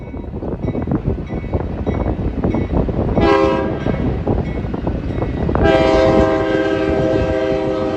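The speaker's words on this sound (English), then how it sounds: "I tried to get off the freeway to catch this train" A train passes near Tehachapi with a continuous loud rumble and clatter of rolling cars, broken by two blasts of its multi-tone horn, the second longer and sustained.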